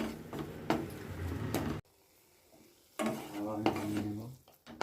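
A spoon stirs a sweet radish mixture with milk and cardamom in a pan, giving close scraping and clinking with a soft sizzle, then breaking off into a brief pause before resuming.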